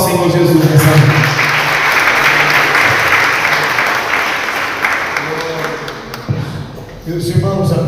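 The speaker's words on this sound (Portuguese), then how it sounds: "Vamos recebê-lo com as palmas ao Senhor Jesus nessa noite." A church congregation applauds at an evening service, a sustained wash of clapping that gradually fades, with speech surfacing near the end.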